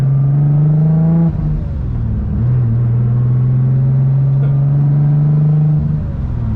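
A 700-wheel-horsepower boosted Infiniti G35 pulls hard in fourth gear, its loud, steady engine drone rising in pitch from inside the car after a brief dip, with no talking.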